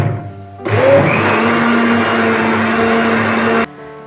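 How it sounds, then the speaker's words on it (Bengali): Blender running steadily while it purées bael fruit with yogurt, cumin and mint; a sharp motor start is followed by an even, loud whir with a rising pitch, which cuts off abruptly near the end. "একটু বেশি সময় ধরে ব্লেন্ড করতে হবে বন্ধুরা"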